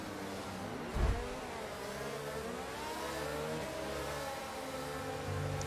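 Formula 1 car engines in the F1 22 racing game drone steadily through the whole stretch, with a brief louder surge near the start and no talk over them.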